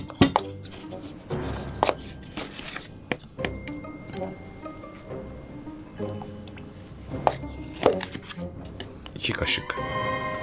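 A spoon stirs sugar syrup mixed with corn syrup in a container, giving light irregular clinks and taps against the sides, with a person talking quietly in between.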